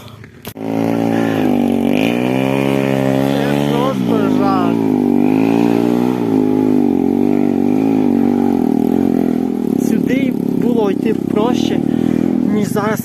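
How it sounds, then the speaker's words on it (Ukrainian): Motorcycles ride at night on a rough dirt track, their engines revving and straining as the wheels slip, a close, steady drone with people talking over it. "Здається, земля хороша, але насправді моторки дуже сильно, ну мотоцикл, дуже сильно буксують"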